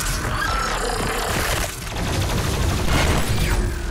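Gunfire from a weapon in the shooter Doom Eternal, dense and continuous, with crashing, shattering impacts and heavy low thuds running through the whole stretch, loud and close with no voice over it.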